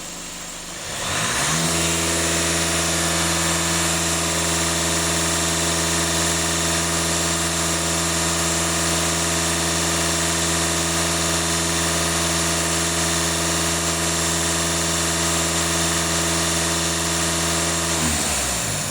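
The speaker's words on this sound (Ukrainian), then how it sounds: "даю газ в пол" A VW Passat B8 with the EA288 diesel engine is held at full throttle, producing a loud, steady, sustained high-rev drone with strong harmonic tones for about sixteen seconds before dropping back.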